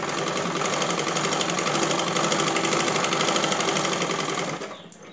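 An electric sewing machine stitching a straight seam on a blouse, running loud, fast and steady close by before slowing and stopping near the end, with no voices over it.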